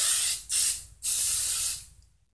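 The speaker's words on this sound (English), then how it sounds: "I'm just going to finish it off with some oil sheen" Three close, loud hissing bursts of oil sheen spray onto styled hair, the first short and the last longest, each fading out before the next.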